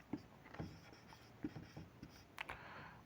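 Writing on a board or paper: a handful of quick, close scratchy strokes in an irregular rhythm, quiet and with no talk.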